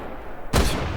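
A single gunshot from a weapon in the VR war game Medal of Honor: Above and Beyond, a sharp loud burst halfway through followed by a lingering rumbling tail over steady background noise.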